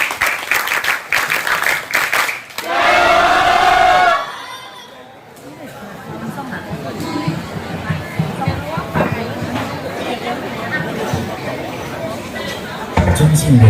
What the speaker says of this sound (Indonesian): Mari kita sambut dengan tepuk tangan yang paling meriah.